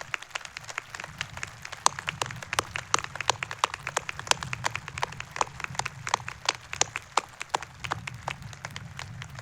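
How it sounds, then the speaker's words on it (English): Scattered hand claps at a West Bend West High School graduation ceremony in 2020, sparse and fairly faint, with individual sharp claps ticking irregularly over a low background hum. "Let's give all these people a round of applause."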